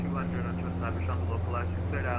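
Saab 340A turboprop engines running steadily at raised RPM during a climb in a flight simulator, a continuous low drone with tonal hum, heard beneath someone talking throughout.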